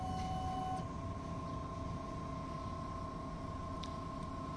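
A Hosonsoft DTF 60 cm printer with an Epson i3200 head runs a test print, giving a steady low mechanical hum and whir with a faint high tone, fairly quiet and unbroken throughout.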